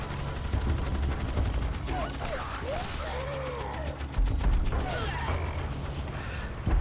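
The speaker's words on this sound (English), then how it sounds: "Mike shoots all soldiers to save Leon" Bursts of rapid gunfire from soldiers being shot in a Resident Evil 4 Remake trailer scene, a dense string of close shots repeating over a steady, layered background.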